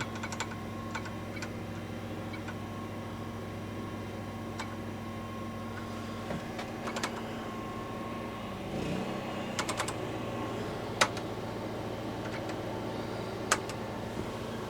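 Irregular keystrokes on a Kaypro 2 computer keyboard, close and moderately loud, tapping in uneven bursts with a few sharper key strikes over a steady electrical hum.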